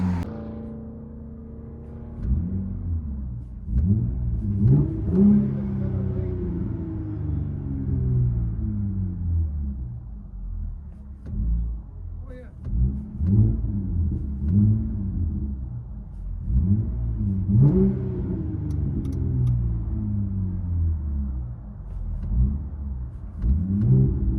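Muffled cabin view of a RAM 3.6L V6 with an aftermarket muffler, a steady low drone punctuated by repeated rising revs and gear shifts over about twenty seconds, with no talking.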